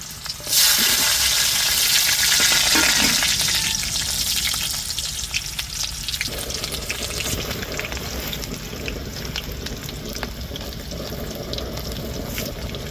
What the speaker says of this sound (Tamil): இப்போ வாங்க அடுப்பில் போய் தாளித்து நம்ம புட்டு வறுவல் பண்ணிடுவோம்